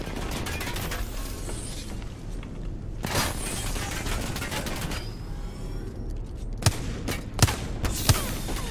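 Gunfire in Apex Legends rings out over a dense, noisy game mix, with several sharp, loud shots near the end after a busier, muffled stretch of combat.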